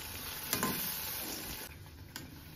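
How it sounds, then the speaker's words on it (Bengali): Salt and sugar stirred into a spice mixture with turmeric in a pan, a soft continuous scraping hiss with a few brief louder strokes, close and fairly quiet, no talking. "সব কিছু একসাথে দেওয়া হয়ে গেছে, এটাকে আমি একটু নেড়ে নেব"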